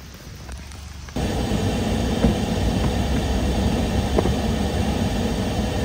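Heavy rain near Wailua Falls pours in a dense, steady hiss of drops on wet surfaces, starting quieter and then jumping to a loud, constant downpour that fills the rest of the clip.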